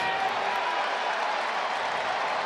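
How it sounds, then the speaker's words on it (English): A sellout crowd of over 44,000 at a night baseball game between the Royals and Angels stands and applauds in a steady, distant wash of clapping and cheering. "Crowd is on its feet here tonight."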